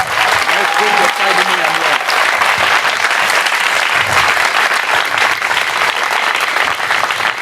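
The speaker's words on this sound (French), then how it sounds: "Est-ce qu'on peut acclamer fortement le Seigneur Jésus?" Church congregation applauding loudly and steadily, dense clapping that continues throughout while someone speaks over it at the start.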